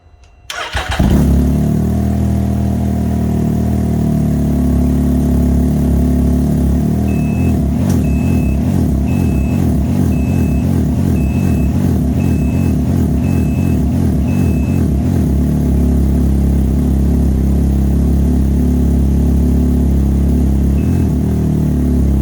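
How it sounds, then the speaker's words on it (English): A Can-Am Ryker engine cranks and fires up after a spark plug install, then settles into a loud, close, steady idle for about twenty seconds, with a repeating electronic beep partway through. "Okay, so we'll go ahead and fire it up."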